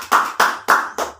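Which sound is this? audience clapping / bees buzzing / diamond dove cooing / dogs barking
audience clapping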